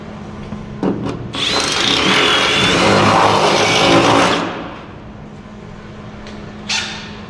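Cordless drill sanding wood, a loud, close, whining burst lasting about three seconds, framed by brief clicks and knocks of handling before and after.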